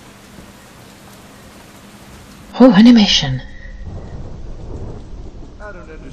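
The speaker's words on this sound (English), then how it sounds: "I can hear Storm." Game-world storm from Deadlight, a loud rumbling thunder crash in the middle over steady rain and weather noise, with someone talking over it at the start.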